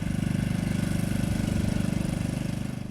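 A tractor engine chugs steadily nearby at idle, a low, even, pulsing rumble with no voices.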